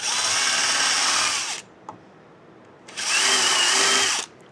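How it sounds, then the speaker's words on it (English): A power drill bores into wood for a DIY boat trailer guide, running in two close, steady whirring bursts of about a second and a half each, separated by a quiet pause with a small click. "Now let's get a drill of the wood."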